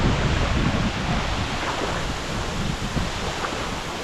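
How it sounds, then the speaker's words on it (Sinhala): A waterfall in Sri Lanka gives off a loud, constant broadband roar of rushing water, steady and close, with no voices over it. "අද ආපු දියැලි වලින් ලස්සනම එක දියැලක් තමයි මේක"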